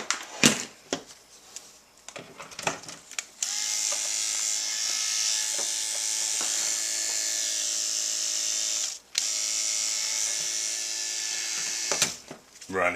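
A freshly repaired Andis electric hair clipper with a new armature and motor runs with a steady, bright buzz for most of the stretch, with a brief drop around the middle, after a few clicks and handling knocks.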